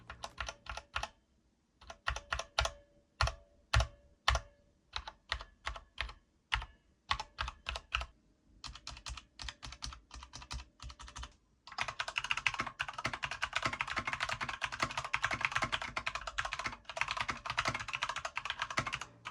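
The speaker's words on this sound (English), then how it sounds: "a quick sound and typing test with the Cherry MX speed switches" Mechanical keyboard keys with Cherry MX Speed switches on a Corsair K65 RGB Mini 60% keyboard clack close up, first in separate bursts of presses with pauses between them, then in a fast, continuous stream of typing.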